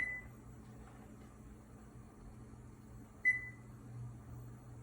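Two short electronic beeps from a Frigidaire gas range oven timer sound a few seconds apart over a quiet, low appliance hum, with no speech.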